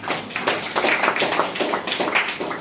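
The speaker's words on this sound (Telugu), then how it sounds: "క్లాప్స్ కొట్టండి ఒకసారి." A crowd at a meeting applauds on cue, a dense, steady patter of many hands clapping that carries on evenly for a few seconds with no talk over it.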